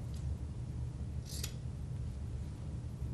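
Scissors snipping small metal rivets off a fabric bag, one short crisp snip near the middle over steady low background hum.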